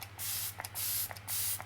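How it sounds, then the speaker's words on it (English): Makeup setting spray misted from a pump bottle onto a face, three quick, forceful hissing bursts separated by short pauses with soft clicks of the nozzle, close and clear over a faint hum. "Has a nice spray on it, a little aggressive,"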